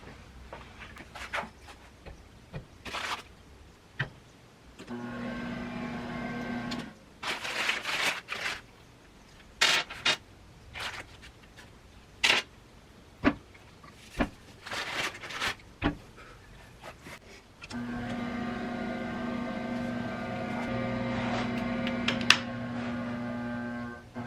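A homemade clay-mixing pug mill runs with a steady motor hum in two stretches, broken up by clunks, knocks and handling noises in between.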